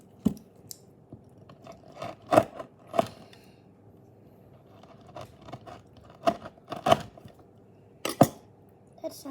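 Crunchy Dubai chocolate is bitten and chewed up close, making scattered sharp crackling crunches in irregular bursts, with quiet stretches between them.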